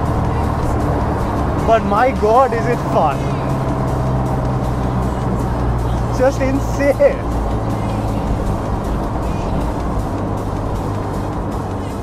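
A Toyota AE86 fitted with an SR20DET engine runs fast, its engine note droning steadily at length while an excited voice talks over it inside the car.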